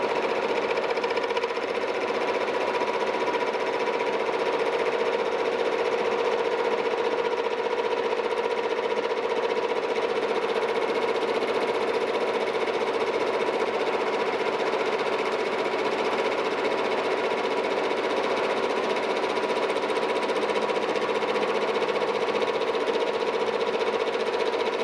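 A horizontal milling machine boring a cane mill bearing at a feed rate of about 3.5 inches per minute drones with a steady, even mechanical hum and a faint cutting whine, continuous and close throughout.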